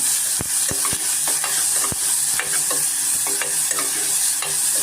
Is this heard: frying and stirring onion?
yes